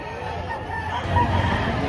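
Chickens and roosters clucking and crowing amid a busy crowd at a poultry auction in Padre Garcia, Batangas, with faint voices and bustle in the background.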